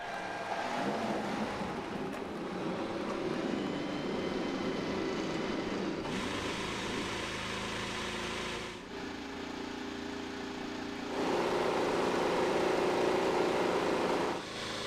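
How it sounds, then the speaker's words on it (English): IndyCar race cars firing up their engines on the grid at the 2016 Long Beach street race: a dense, sustained mechanical roar that swells and shifts in level several times, loud and continuous with no talking. "engines have come to life, drivers strapped in"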